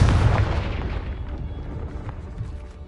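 A Confringo blasting spell goes off in the Hogwarts Legacy video game, one loud booming explosion at the start that rumbles and slowly fades over a few seconds, with no voices.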